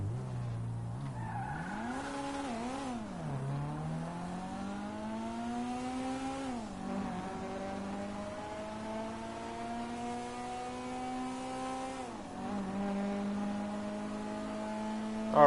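A front-wheel-drive Blista Compact in GTA accelerates hard through several gear changes, its engine whine rising and dropping back in repeated sweeps over steady tire noise, with no talking.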